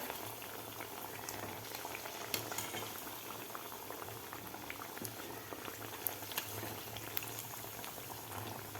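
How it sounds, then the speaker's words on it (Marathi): Crisp poha vade bubbling in a pan of hot oil, an even, continuous fizzing hiss with a few faint clicks, close by and fairly quiet, no one talking. "आपल्याला हे वडे तळून घ्यायचे आहेत"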